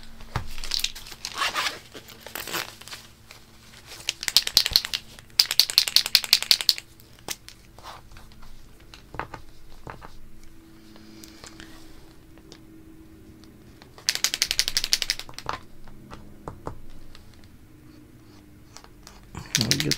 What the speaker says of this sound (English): If your paint pen comes out clear, you need to shake it up and depress that tip